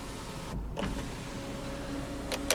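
The power sunroof motor of a 2018 Ford EcoSport Titanium hums steadily overhead inside the cabin, a quiet continuous electric whir with a faint click near the start and another at the end.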